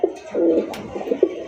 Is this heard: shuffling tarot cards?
no